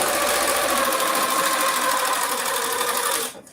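A sewing machine runs in a steady, fast, continuous stitching whir as fabric cut on the bias is guided through, close and loud, before stopping abruptly at the end.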